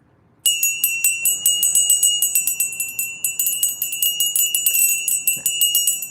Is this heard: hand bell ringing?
yes